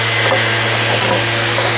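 A power sander whirs steadily against wooden garden-build parts after drilling, loud and close, with a constant hum and faint rasping scrapes.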